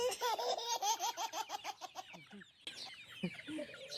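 A brood rooster clucks over and over in a quick, bobbing rhythm close by, the calls loosening into scattered softer clucks toward the end, with no talking.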